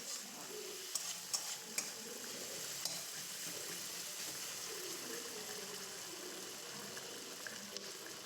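Spices with scallions and tomato frying in a pan for a bean dish, a steady close sizzle with occasional light clicks of a spoon stirring, no talk.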